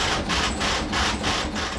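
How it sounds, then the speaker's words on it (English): A braille embosser hammers out a book in a steady rapid clatter, with mechanical bursts repeating about three times a second, close and fairly loud. "That is the sound of a book being embossed in Braille"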